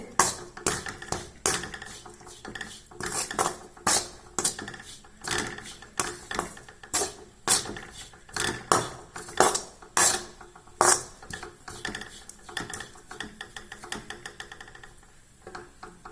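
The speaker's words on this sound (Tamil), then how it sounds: "தேங்காய் வந்து வறுத்து வறுத்து வச்சுருக்கேங்க இதை இப்போ நம்ம வறுக்கலாம்" Coconut being dry-roasted in a pan on low heat for sweet laddu, giving a steady run of sharp scraping and tapping clicks from a spatula against the metal pan, fairly close and with no talking.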